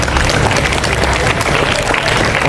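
A crowd of students at a morning school assembly bursts into loud, dense applause, a continuous patter of many hands clapping nearby for a few seconds.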